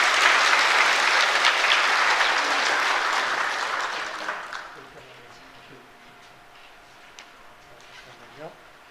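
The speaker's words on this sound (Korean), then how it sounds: "큰 박수로 축하하겠습니다" A church congregation at a Korean worship service claps in loud, dense applause for about four seconds before it fades to quiet room tone with faint scattered noises.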